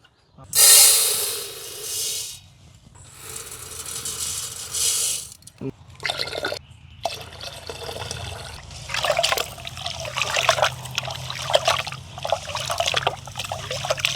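Rice being rinsed in water for a mushroom biryani, with splashing, trickling and pouring from about 5 seconds on after an earlier louder rush of running water, close by and with no talk.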